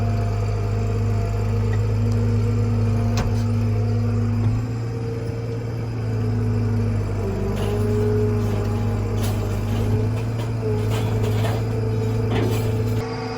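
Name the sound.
squealing serpentine belt on a truck engine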